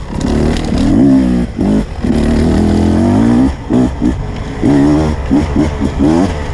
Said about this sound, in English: But the engine just sounds so nice.